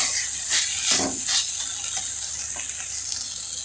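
Vegetables frying on a pan with a little water added, a steady close hiss of sizzle and steam with a few soft stirring scrapes, and no talking.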